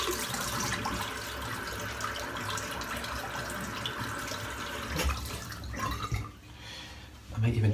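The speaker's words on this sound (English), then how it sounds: "I'm just going to give my head a bit of a rinse." Water runs at a bathroom sink as a freshly shaved head is rinsed, a steady close splashing and trickling stream that breaks into louder splashes and drips toward the end.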